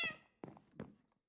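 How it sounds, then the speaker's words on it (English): A Minecraft cat gives a brief meow followed by a couple of soft thumps, close and quiet with no voices. "Kitty meowing. How cute."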